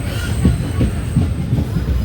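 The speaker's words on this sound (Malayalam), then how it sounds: "പുനലൂരിലാണ് വണ്ടി നിർത്താൻ പോകുന്ന" A passenger train slows into Punalur railway station, its wheels giving a thin, high, sustained squeal over a rhythmic clatter and rumble of rolling carriages, loud and close.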